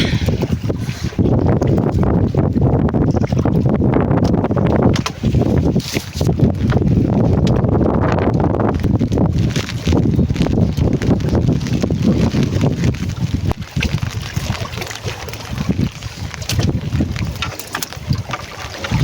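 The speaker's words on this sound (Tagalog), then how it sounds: "Malakas pa rin yung hangin." Strong, gusty typhoon wind roars and buffets the microphone continuously, with a low rumbling blustery texture throughout and no speech.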